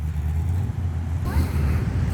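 Modified cars, including a Vortex-supercharged 3-valve, roll into a dealership car show on wet roads, their low engine rumble steady and close, rising slightly toward the end.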